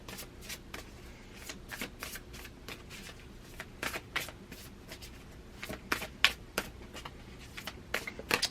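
Playing cards being shuffled repeatedly during a tarot-style card reading, a steady series of quick riffling bursts and soft card slaps, close and fairly quiet, with no talking.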